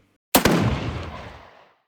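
Battlefield 2042 Hazard Zone sniper gunshot redesign with all effects applied: one sharp, loud crack after a brief silence, followed by a second thump and a long rolling tail that fades out.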